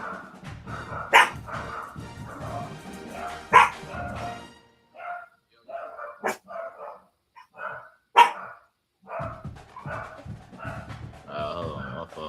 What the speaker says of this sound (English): They like they gotta bark at everything that move outside